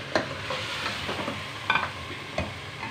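Goat trotters sautéing in a pot after yogurt went in, a quiet steady sizzle broken by a few sharp scrapes and knocks of the stirring spoon.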